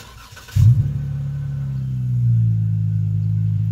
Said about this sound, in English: But I'll give you a cold start here.